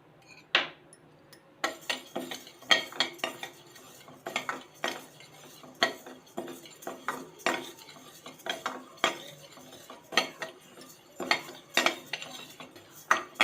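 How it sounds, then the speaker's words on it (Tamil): Moong dal is dry roasted in a metal pan and stirred with a spoon, making irregular scraping and clinking strokes that repeat steadily and close up, with no talking. "இப்போ பைத்தம் பருப்பும் வறுத்துக்கலாம்."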